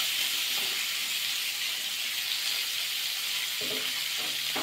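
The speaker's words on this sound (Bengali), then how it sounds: "কারণ সবজিগুলো সবই ভাজা করে নিতে হবে" Vegetables with egg and capsicum fry in a pan, giving an even, continuous close sizzle with faint low clatters of stirring near the end.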